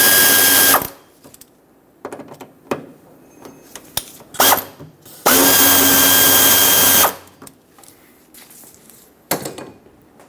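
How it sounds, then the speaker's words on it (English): A power drill with a 6mm socket loosens the filler neck hose clamps on a 1999-2025 Ford E-350 Super Duty 5.4L V8 fuel tank, two loud close bursts of whirring separated by clicks and clunks of handling. "Use a 6mm socket to loosen these up."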